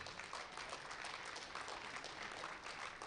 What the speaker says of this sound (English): One more round of applause for the boys.